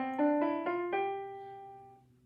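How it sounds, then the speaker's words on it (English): Tones of a G Mixolydian scale played on a clean-toned instrument, four quick rising notes stacking into a ringing chord that slowly decays, heard alone without talk. "G Mixolydian sounds like this"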